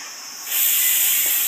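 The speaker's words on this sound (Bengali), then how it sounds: "এটা তো সিটি পড়তেই থাকবে 3, 4টে, 5টা, যেহেতু মটন।" A pressure cooker cooking mutton lets out a loud rush of escaping steam that starts softly, then jumps to a strong, steady hiss partway through and holds, with no speech.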